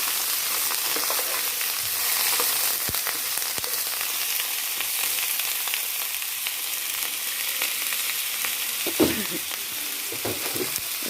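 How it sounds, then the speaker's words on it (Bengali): Pointed gourd (potol) lightly frying in hot oil for a fish curry: a dense, continuous sizzle heard close, with occasional stirring knocks and scrapes and no voices. "পটলগুলোকে হালকা একটু ভেজে নেবেন"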